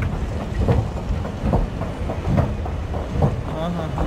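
A Paris metro train on line 14 rumbles at a station with rhythmic clattering pulses, loud and close, while a voice talks over the noise.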